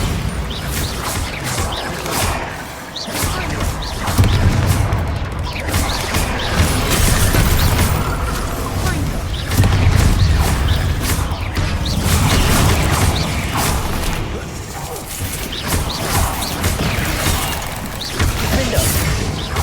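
A Bombarda spell explosion in the video game Hogwarts Legacy, a loud, dense roar of crashing blasts and mechanical rumble that carries on steadily for the whole stretch.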